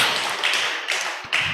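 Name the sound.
audience applause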